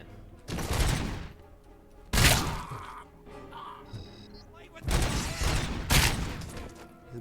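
Gunfire in the game Robocop Rogue City, heard as heavy bursts of automatic shots in several loud volleys separated by quieter gaps, with someone talking between them.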